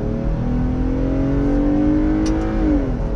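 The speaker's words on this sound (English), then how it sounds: "that V6 has some pretty good grunt to it" A 2020 Jeep Gladiator Rubicon's V6 pulls hard under acceleration, a loud, steady rising engine drone with climbing harmonic tones that shift as it changes gear, heard from inside with no talking.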